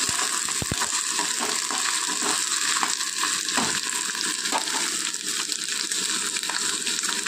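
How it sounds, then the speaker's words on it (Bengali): Ginger-garlic paste stirred and frying in a pan for a snail curry, a constant close sizzling hiss with soft rhythmic scraping strokes running throughout at an even, moderate level. "একটু নাড়াচাড়া করে নিয়ে আদা রসুন পেস্ট দিয়ে দিচ্ছি"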